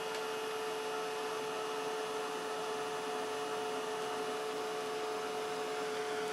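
Heat tool blowing over misted paper: a steady, loud whirring hum with high whine, constant from start to finish.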